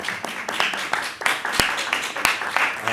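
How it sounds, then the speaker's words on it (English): Scattered clapping in a city council workshop room, a few irregular claps with sharp isolated hand strikes, mixed with murmuring voices nearby. "I just really just need to clap for that."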